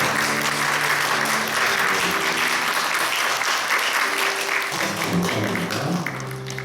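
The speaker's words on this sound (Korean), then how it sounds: "한번 다시 한번 뜨거운 박수 좀 보내주시기 바랍니다." A church congregation claps warmly during a Sunday worship service, a loud, sustained wave of applause with some background music tones underneath, lasting the whole stretch without speech.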